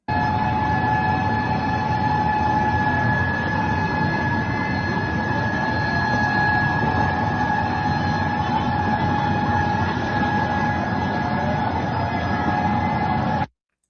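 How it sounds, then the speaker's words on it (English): Air raid sirens sound in Israel, a steady droning tone holding continuously for about fourteen seconds over a broad, rumbling background noise, then cutting off abruptly. "Their air raid sirens are going off."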